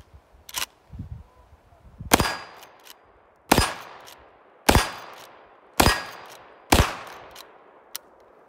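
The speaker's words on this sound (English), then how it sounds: "Gonna shoot off 5 rounds of Winchester ammo, 110 grains," Chiappa mare's leg replica of a Winchester 1892 lever-action firing 110-grain .357 Magnum Winchester rounds outdoors: five sharp, loud shots about a second apart, each with a short ringing decay, after some quieter clicks of handling.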